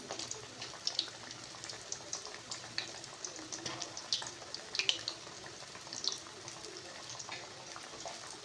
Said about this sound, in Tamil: இப்போது புளி தண்ணியை இதில் ஆட் பண்ணிக்கலாம்.